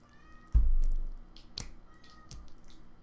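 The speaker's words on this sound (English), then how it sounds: "Oh my gosh, you hear that, cat?" A cat gives a brief meow in a room during ocarina making, with a soft wet squish and a few small clicks around it.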